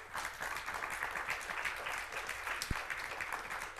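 A church congregation applauds during a Sunday service, a steady, even wash of many hands clapping that fills the room without a break, with one sharp louder clap standing out near the end.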